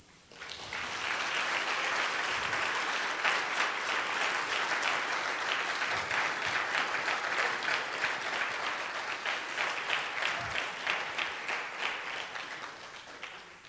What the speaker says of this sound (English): Will the new MSBS class please stand for another round of applause?